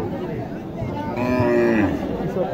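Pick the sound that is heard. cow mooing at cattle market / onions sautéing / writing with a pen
cow mooing at cattle market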